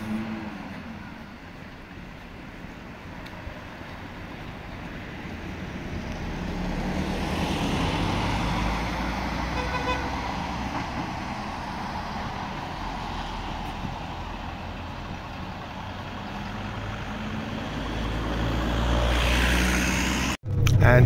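A bus pulls away from the bus station in Medjugorje, its engine a low, steady rumble that swells and fades with road noise before a sudden loud knock near the end.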